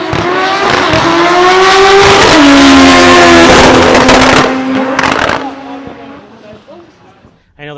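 An all-wheel-drive Honda race car launches with anti-lag at 8000 RPM, a very loud, close high-revving engine with sharp popping bangs, a rising whine as it accelerates away, then fading into the distance with voices nearby.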